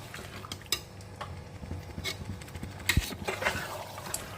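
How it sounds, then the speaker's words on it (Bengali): Mutton and potato pieces being stirred with spices in a pan for vindaloo, with scraping spoon strokes and clinks against the metal over a low sizzle, irregular and close. "আমি এবার কিন্তু মাংস এবং আলুটাকে এই মশলার সঙ্গে কিন্তু খুব ভালো করে কিন্তু কষিয়ে নেব"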